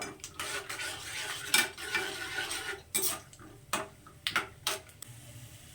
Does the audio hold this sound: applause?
no